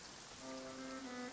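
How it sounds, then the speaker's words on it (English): Steady rain in Genshin Impact patters across a surface, a dense even hiss with a faint sustained tone rising beneath it, no voices. "It's raining."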